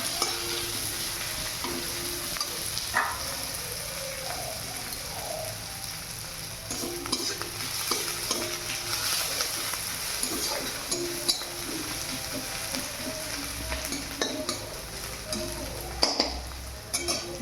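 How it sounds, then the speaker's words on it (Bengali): Onions frying in a pan to a deep reddish brown, with steady sizzling and repeated scraping and clinking as they are stirred, continuous and close throughout. "পেঁয়াজটা ভাজা হবে, ভালোভাবে লাল লাল করে"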